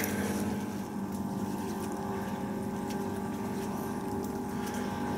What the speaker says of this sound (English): Boats on the water.